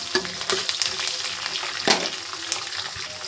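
Onion pieces frying in oil with cashews and ginger for cashew upma, a close crackling sizzle punctuated by a few sharp spoon scrapes and pops, moderately loud with no talk.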